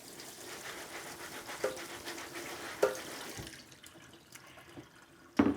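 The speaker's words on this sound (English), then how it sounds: "you pour it into your strainer again," Soaked pumpkin seeds rinsed in a strainer under a kitchen tap: a soft, steady stream of running water splashing, with a few clinks and knocks near the end.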